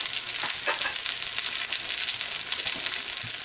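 A Monte Cristo sandwich sizzles steadily in a hot pan, a loud, dense, continuous frying crackle with a few soft knocks of it being turned.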